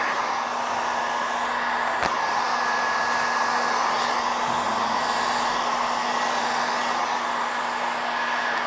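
A heat gun blows steadily while warming vinyl interior film wrapped around a round table top, a close, constant airy whine with a fixed motor hum and one brief click early on.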